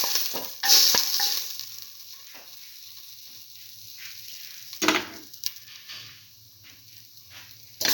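Garlic sizzles in a hot pan for a stew of tomato and split pigeon peas, a soft steady hiss broken by a few louder scrapes of stirring and clinks against the pan.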